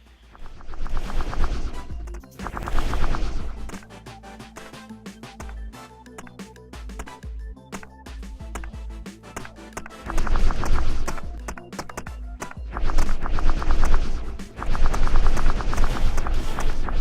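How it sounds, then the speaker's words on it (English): Rapid fire towers in the strategy game Stellar shoot continuous bursts of fast, rattling shots that swell and fade in waves, loud and dense over a low rumbling game backdrop. "The towers that you can see firing are rapid fire towers"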